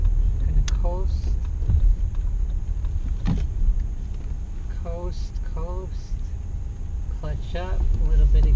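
A manual-transmission car coasting with the clutch in while turning in a parking lot, a low steady rumble with road and wind noise beneath someone talking over it.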